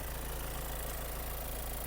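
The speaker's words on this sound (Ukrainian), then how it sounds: "двигун працює" A 2020 Skoda Octavia engine idles steadily, a low continuous rumble with an even pulse and no changes in pitch or load.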